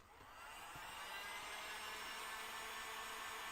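Hair dryer blowing on a DIY craft kit for a dog and cat shelf hugger: a steady airy whoosh that switches on and swells to a constant loud hiss, with no talking.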